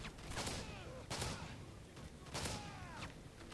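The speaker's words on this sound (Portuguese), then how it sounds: "O cara toma um tiro de shotgun. A queima-roupa e não morre" Shotgun blasts from the Call of Duty Modern Warfare 3 video game in survival mode, three loud sharp shots spaced about a second apart with trailing echoes.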